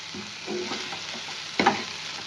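Bengali egg curry masala of chili powder and salt sautéed in a pan, with soft scraping stirs and a gentle sizzle, plus one sharper clatter near the end; no voices.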